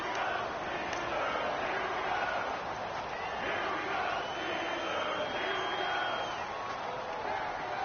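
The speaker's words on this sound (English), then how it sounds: "the crowd getting into it as we come up on a big 3rd down" A football stadium crowd at a Steelers vs Browns game roars steadily ahead of a big third down, a dense, continuous wall of cheering that never lets up, with a broadcaster talking faintly underneath.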